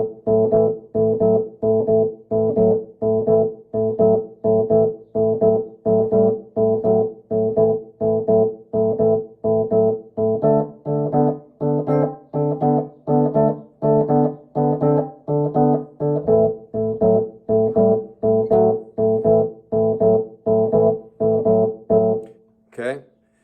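A Chicago-style blues rhythm pattern in A played on electric guitar: a steady, loud shuffle of repeated chord strokes, about one per second, running unbroken and alone with no talking, ending on a brief final note.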